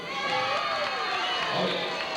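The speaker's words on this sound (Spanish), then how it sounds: "Por allí aplauden también por aquí, que se lo merecieron." A crowd in a carnival dance hall during Entroido 1987 festivities, a dense, continuous wash of cheering and applause with shouting voices, steady and moderately loud throughout.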